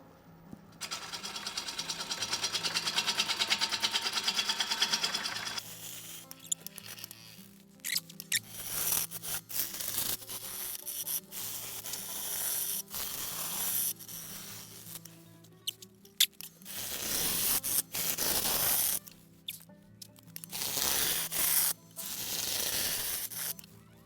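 A silver maple platter spins on a wood lathe at 550 RPM as a freshly sharpened half-inch bowl gouge cuts it, producing intermittent rough, hissing bursts over a low motor hum, with short pauses between passes.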